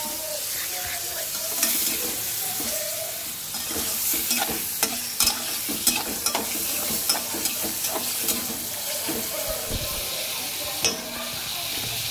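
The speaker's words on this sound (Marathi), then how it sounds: "आता आपण हे पनीर फ्राय करून घेऊया थोडंसं" Paneer fries in a pan with a constant sizzle. Irregular clicks and scrapes of stirring come through close by, and there is no speech.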